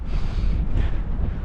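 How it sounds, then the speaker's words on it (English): Steady wind gusts across a lake in Snowdonia on a cold winter day, a constant rushing roar buffeting the microphone with no pauses. "It is a bit windy"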